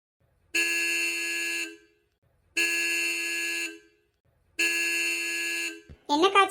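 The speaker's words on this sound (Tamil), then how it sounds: "அது அவங்களோட ஹாரன் சவுண்டு." A car horn honks three times in long, evenly spaced steady blasts, each about a second long, loud and close, followed by a brief burst of talk.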